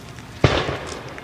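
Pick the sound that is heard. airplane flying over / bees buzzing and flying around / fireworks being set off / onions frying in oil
fireworks being set off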